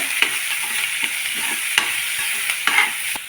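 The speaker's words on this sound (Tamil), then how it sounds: "கொஞ்சம் மஞ்சள் இதையும் சேர்த்து வதக்கிடுங்க" Masala with rock salt and turmeric is sautéed in a pan, a steady close sizzle of frying broken by repeated scraping stirs of a spoon, no voices.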